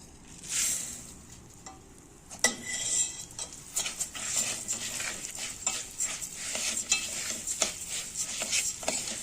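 Rice being stirred in a pot with fried ingredients, a metal spoon scraping and clinking repeatedly against the pot over a soft sizzle, close and busy.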